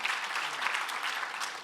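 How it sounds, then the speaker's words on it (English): Steady, dense applause from a conference audience at a national construction summit, a broad clapping wash that fills the short moment with no voices over it. "I think that deserves another round of applause from the..."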